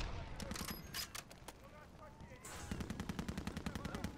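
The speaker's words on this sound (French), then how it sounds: "C'est ma tourelle qui fait le ménage." An automated turret in Call of Duty Modern Warfare 3 rattles off rapid machine-gun bursts, with a dense run of evenly spaced shots at the end, amid other game gunfire and sound effects.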